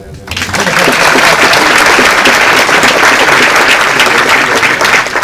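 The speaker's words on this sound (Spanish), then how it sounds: "Un aplauso." Loud audience applause breaks out at a talk by Dr. Daniel López Rosetti, many people clapping in a dense, sustained roar that starts abruptly and stays strong throughout.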